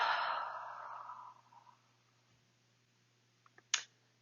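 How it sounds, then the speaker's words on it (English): A long, audible ocean-style yoga breath exhaled through the mouth with the throat slightly constricted, a soft hissing rush that fades over about a second, followed by quiet and a sharp little click near the end. "exhaling through the mouth with a making that ocean sound and feeling it in your throat"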